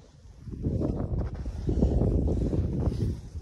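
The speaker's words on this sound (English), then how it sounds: "Out here again, very windy today." Strong wind buffets the microphone in low, rumbling gusts that swell and stay loud, with a hint of water in the background.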